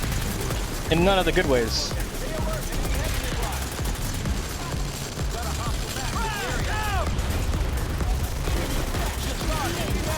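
Gunfire in the Planetside 2 shooter game, with a rapid, dense stream of shots and bursts over a noisy battle background. Someone speaks briefly over it.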